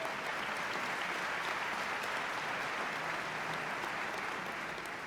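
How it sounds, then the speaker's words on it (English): A large audience at a 2017 State of the State address applauds Chief Justice Maureen O'Connor, a dense, even roar of clapping that holds steady throughout without talk. "Give her a round of applause."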